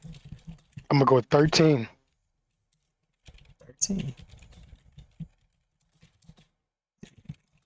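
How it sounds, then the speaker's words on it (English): Keyboard typing as sparse, quiet clicks scattered through the clip, close to the microphone, mixed in with a short burst of louder speech near the start and brief talk later. "I'm sorry, I'm typing something."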